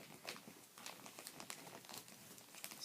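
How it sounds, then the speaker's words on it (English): A sheet of paper being folded back on itself while making a paper tank gives soft crinkling and rustling close by. The sound is quiet, continuous and uneven. "now you're just going to fold it back upon itself."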